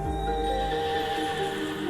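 Lunibus, a horse-bodied beast in Honkai: Star Rail, lets out a loud, drawn-out whinny over a dense, sustained orchestral and ambient bed, with hoof-like thuds underneath.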